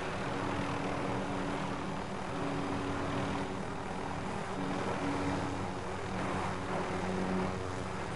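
A helicopter in the Call of Duty Warzone video game gives off a steady droning rotor and engine hum. The sound is continuous and fairly even, holds at a moderate distance and runs alone with no talk.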